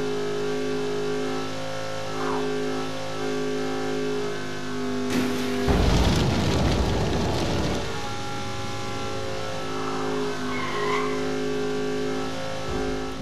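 In the racing game Dangerous Driving, a car engine hums steadily, then bursts into a loud roaring rev and racing surge for about two seconds before settling back to a hum; game audio alone, with no talking.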